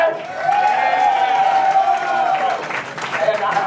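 Crowd applause and cheering at a punk concert at The Acheron, continuous clapping and shouts mixed with ringing feedback from the stage.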